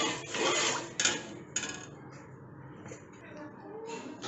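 Flour being stirred together with tamarind water in a bowl for Tamil puli koozh, giving close scraping, rasping strokes in irregular bursts, with a voice talking faintly underneath.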